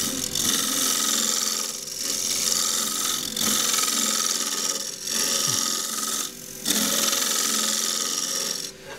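A small bowl of green wood spins on a lathe while the tool scrapes and cuts steadily at close range, with brief pauses and shifts in the rasping texture.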